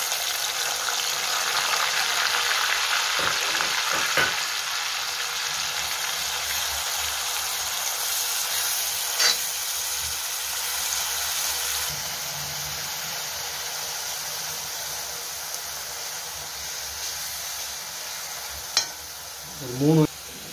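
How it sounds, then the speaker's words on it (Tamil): Curry leaves, green chillies and onions fry in hot oil with a steady, hissing sizzle up close, a few crackling bursts early on and a brief clatter near the end, no voices. "எண்ணெய் நல்லா காஞ்சிச்சு. கருவேப்பிலை போட்டு பச்சை மிளகா, வெங்காயம் சாப் பண்ணி வச்சு வெங்காயம் போட்டுக்கலாம்."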